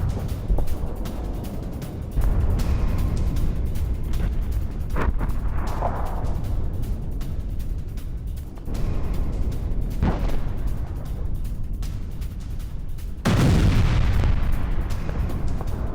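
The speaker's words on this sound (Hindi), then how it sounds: "इजराइल के एक साथ 4 एयर स्ट्राइक्स, ब्रेकिंग और शॉट। साउथ बेरूत में हिजबुल्लाह के ठिकानों पर हमला हुआ है।" Israeli air strikes on South Beirut: a series of heavy, rumbling blasts, with about three big booms spaced several seconds apart over a constant low roar, and no talking.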